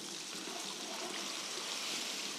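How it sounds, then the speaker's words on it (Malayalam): Water poured steadily into a pan of fish masala curry, a soft continuous trickling hiss, faint and close, with no voices. "ഇതിൻ്റെ അകത്ത് വെള്ളം ഒഴിച്ചു. ഇനി ഒഴിക്കണമല്ലോ? ഒരുപാട് വേണോ വെള്ളം?"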